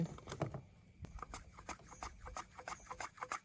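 Thin slices of jackfruit seed drop from a handheld chips slicer, making quick, irregular light clicks and patters close up, with short gaps between bursts and no voices.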